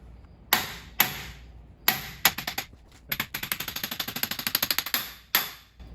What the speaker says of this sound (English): pull that out a little bit now, that whole knuckle, and then hit it with a hammer